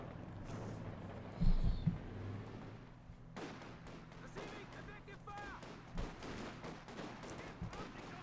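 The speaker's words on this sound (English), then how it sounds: "Where's the shooting happening?" Gunfire and artillery in the World War II strategy game Company of Heroes 2, scattered bursts of shots and booms among game effects, with a player talking over parts of it.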